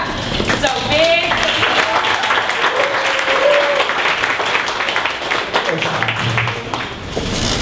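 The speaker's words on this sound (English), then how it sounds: "stand up, give a big round of applause to Dave from Coco Jack." Loud, sustained applause from a large crowd at a startup pitch event, dense clapping filling the whole stretch with some cheering voices mixed in.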